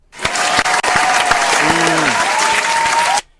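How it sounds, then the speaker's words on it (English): Loud crowd applause, dense clapping that starts abruptly, holds steady for about three seconds with a few sharp gaps, then cuts off cleanly, with a brief voice-like tone in the middle. "everybody round of applause, 15 Minutes of Shame"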